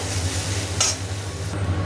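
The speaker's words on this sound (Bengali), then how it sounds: "আলুটা লাল লাল করে ভেজে ঢ্যাঁড়সটা দিয়ে দিলাম, এবার ঢ্যাঁড়সটা একটু ভাজা হোক, তারপরে পেঁয়াজটা দেবো।" Potatoes and okra sizzling in a pan with onion, a constant frying hiss with a brief scrape of stirring, close and fairly quiet under a low background hum.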